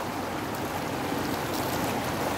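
A river in Carranglan rushes steadily with a dense, even wash of flowing water, constant and close with no break.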